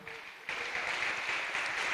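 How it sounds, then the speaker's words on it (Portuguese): A church congregation breaks into applause, a thin sound swelling abruptly into steady, full clapping that carries on evenly throughout the hall. "Vocês podem aplaudir ao Senhor."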